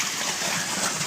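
Water gushing from a running motor pump coupled to a tractor in a brinjal field, a brief steady hiss and splash, close and fairly loud.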